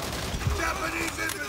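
Gunfire in Call of Duty: World at War co-op play, a dense, muffled burst of shots with a steady background rumble throughout.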